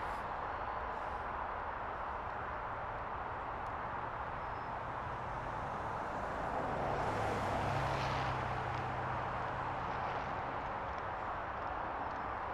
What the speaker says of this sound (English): A Dreamliner with its excellent livery.